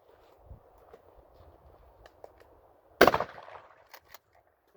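A single sharp report of a 20 gauge shotgun firing Remington Game Shot 7/8 ounce loads at a range, one loud blast with a short tail, preceded by faint shuffling and a second smaller crack at the end.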